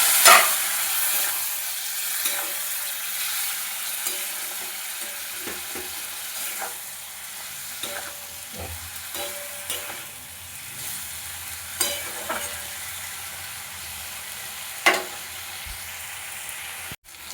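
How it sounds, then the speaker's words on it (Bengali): Cauliflower and potato sautéing with a little water in a pan, a steady soft sizzle and steam hiss broken by intermittent scrapes and stirring clacks of a utensil, heard close and alone. "সামান্য জল দিয়ে একটু ভালোভাবে কষিয়ে নেব।"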